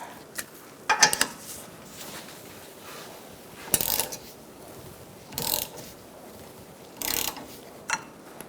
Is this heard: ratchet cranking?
yes